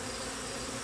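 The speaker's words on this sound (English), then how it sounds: "There are some drones there in front of the hive as well." Honeybees, including drones, swarm in front of a Warre hive, making a dense steady buzz that fills the air, close and continuous.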